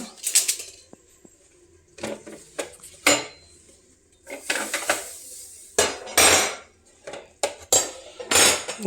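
Dishes, pots and cutlery clatter during kitchen cleaning in irregular loud bursts of clinks and knocks separated by brief quiet gaps, with no talk.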